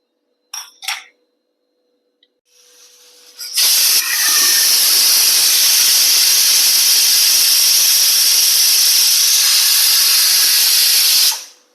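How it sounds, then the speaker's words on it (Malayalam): A pressure cooker with potatoes boiling inside lets out a loud, sustained steam whistle-hiss that holds steady for about eight seconds. A couple of brief clinks come first, then a softer rising hiss builds before the whistle. "ഒരു മൂന്ന് വിസിൽ കൊടുത്തെടുക്കുക കേട്ടോ"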